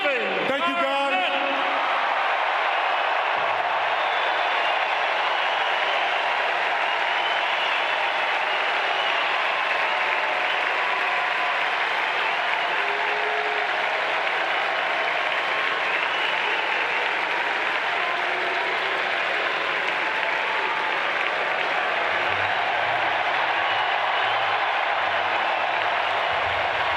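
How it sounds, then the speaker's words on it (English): A large arena crowd of Celtics fans gives a long, sustained round of loud, dense applause and cheering for Kevin Garnett at his jersey retirement ceremony, with faint voices under the clapping. "Celtics fans, how about one final applause for number 5, Kevin."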